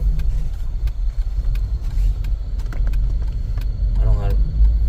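A manual car's engine revs and rumbles steadily during driving practice, close and loud inside the cabin, with a short voice heard near the end.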